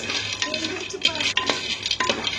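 Almonds and cashews being roasted in a kadai over a low flame, with repeated scraping and light clinking of a ladle against the pan in an irregular rhythm, a voice speaking over it.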